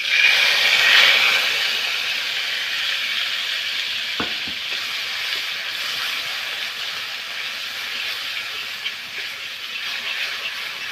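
A spice paste hits hot oil with fried black cumin in a pan, producing a loud initial sizzle that settles into an even, continuous frying hiss with a couple of faint knocks.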